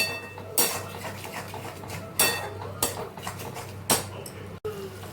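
Ginger and green chili paste being stir-fried in a pan with oil, a utensil scraping and clinking against the metal in a few sharp strokes over a steady low hum.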